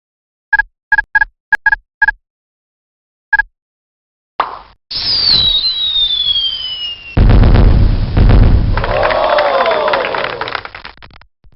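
Fireworks in the Mighty Math Number Heroes computer game: a run of short electronic beeps, then a whistling launch and crackling, fizzing bursts that fade out.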